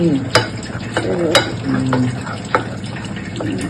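Chicken sizzling in a frying pan with a utensil scraping and stirring, a few sharp clinks against the pan at irregular intervals.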